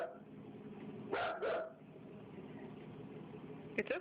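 A dog gives two quick barks close by, standing out over a steady background hum, followed by a short sharp sound near the end.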